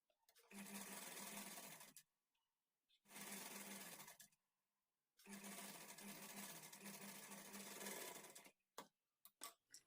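A sewing machine fitted with a normal presser foot stitches thread piping along a fabric edge, running in three loud, steady bursts of fast needle rattle separated by short pauses, with a few clicks at the end.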